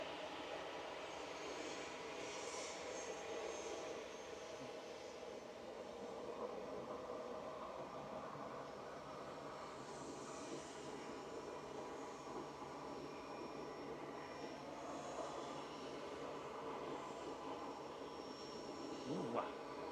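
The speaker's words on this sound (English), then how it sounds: "EasyJet to Berlin, Brandenburg lining up now for departure behind the KLM" An EasyJet A320 Classic airliner lines up for departure at Manchester Airport, a steady, moderately distant jet engine drone running throughout amid ambient airport noise.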